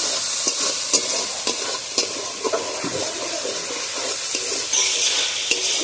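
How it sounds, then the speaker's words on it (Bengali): Spice masala for a pea and potato ghugni, with whole dried chillies, stir-fried in oil: a close, busy sizzle broken by repeated scraping and knocking of a spatula against the pan, with no voices. "এবার আমি মশলাটা ভালোভাবে কষিয়ে নেবো"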